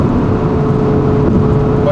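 A Hyundai i30 engine roars steadily at high revs near redline, a loud, rough drone held close throughout with no pause.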